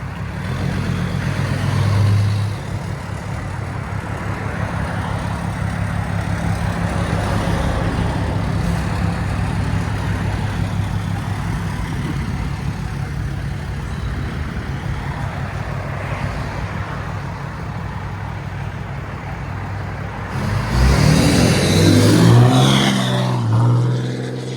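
A straight-piped 2017 RAM 2500 with a 6.7L Cummins turbo diesel and a 5-inch exhaust into a 6-inch tip idles with a deep, loud steady rumble, then revs hard near the end.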